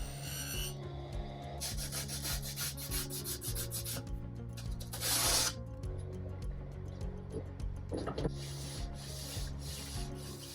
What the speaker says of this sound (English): I need to do a bit more sanding